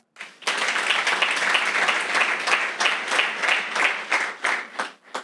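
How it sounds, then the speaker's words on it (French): An audience bursts into applause after a sudden start, a thick layer of clapping that holds steady, then thins and fades in uneven waves toward the end. "On applaudit pour l'IPAC."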